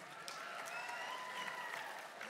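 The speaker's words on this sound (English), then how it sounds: "I don't know why you're applauding for that" An audience at an evening event claps steadily, a dense even applause heard from a distance and fairly soft throughout, with no speech over it.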